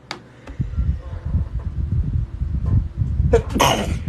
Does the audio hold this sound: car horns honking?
no